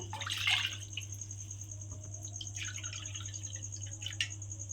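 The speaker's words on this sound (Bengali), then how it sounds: "এইবারে আমি কড়ার মধ্যে দিয়ে দেব জল।" Water is poured into a wok set on a lit gas stove, a splashing burst near the start, then softer trickles over a steady low burner hum, close by with no talking.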